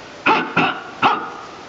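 A wolf gives three sharp barks in quick succession, loud and close, with a short pause before the last one.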